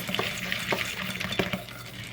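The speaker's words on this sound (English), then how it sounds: "now I'm just going to use a spoon and mix them around" Pumpkin seeds coated in butter being stirred with a spoon in a bowl, close scraping and light irregular clinks of spoon against dish, with no talking.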